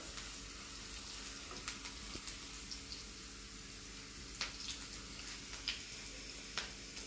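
Tadka for moong dal frying in a pan, a steady faint sizzle with occasional light ticks and clinks of a spoon, close by and without talk.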